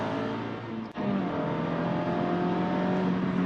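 A tuned Mazda Miata engine drones and climbs steadily in pitch as it revs under acceleration toward 7,000 rpm, loud and continuous after a brief gear-change dip near the start.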